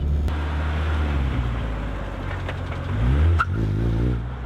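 A manual-transmission car accelerates along a residential street while a learner drives, its engine drone close and steady before a sharper rev rises near the end, with no talking.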